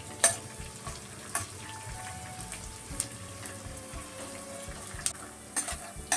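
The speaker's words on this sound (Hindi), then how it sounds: "ये गोंद डालेंगे इसमें। और इसको भूनेंगे।" Edible gum (gond) fries in hot oil in a pan, a steady close crackling sizzle with occasional louder pops and stirring clicks, no voices over it.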